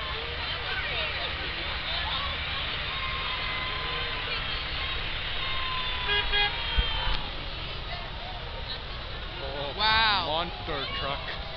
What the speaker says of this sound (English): Monster truck. Big monster truck.